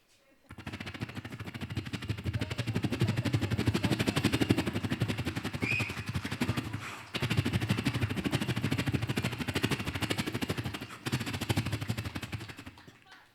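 A voice imitates a helicopter with a rapid, throbbing chop, sustained in two long bursts separated by a short break.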